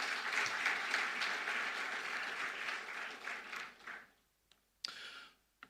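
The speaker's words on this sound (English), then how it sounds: "Shall we do a big round of applause for him?" Audience applause for a law school dean at a distinguished alumni lecture, steady crowd clapping for about four seconds, then fading out into a few scattered, isolated claps.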